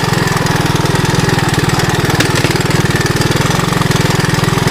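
A 1981 Honda 185S motorcycle runs off-road, its single-cylinder engine chugging loudly and steadily close by with a rapid, even pulse, and no talking.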